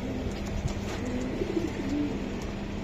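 Pigeons coo steadily at a pigeon seller's place, where red Gola, racer and beauty homer birds are kept, low soft calls repeating close by against a constant background hum.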